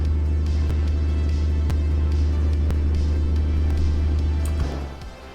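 Steady low throb of a Caterpillar C-10 diesel truck engine in an International 9900i in American Truck Simulator, loud and constant at cruise, easing off near the end.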